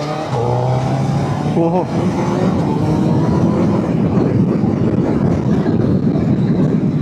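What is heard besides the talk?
Suzuki Hayabusa superbike engine and quick shifter while riding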